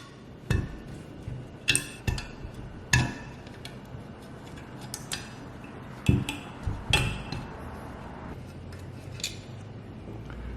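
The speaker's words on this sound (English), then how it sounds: "I'm going to be removing the front compressor cover, and that is a series of 8mm bolts which we just undo from around the CHRA." Metallic clinks and taps from a mechanic undoing a series of 8mm bolts around the CHRA to remove the front compressor cover of a Ford Ranger turbo, with sharp intermittent impacts over a steady workshop background.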